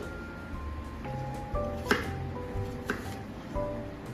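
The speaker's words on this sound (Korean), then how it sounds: "그리고 사과는 먹기 좋은 크기로" A knife chops apple on a board at an uneven pace, giving soft close thuds with a few sharper taps.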